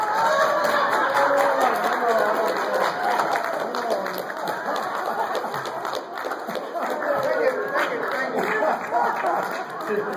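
A crowd at a talent-style show claps for a guitar performer with his dog, with scattered, uneven applause mixed with chatter and voices that carry on over it for several seconds.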